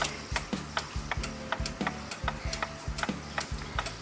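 A Gilbert mechanical kitchen clock ticking through a beat amplifier, steady evenly spaced sharp ticks close up, about two per second, over a low humming tone with no talk.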